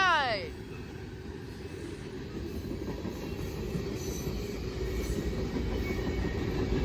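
A Norfolk Southern manifest freight train rolls past at night in the rain, with a loud continuous rumble of wheels and cars that builds steadily after a brief descending horn-like sweep at the start.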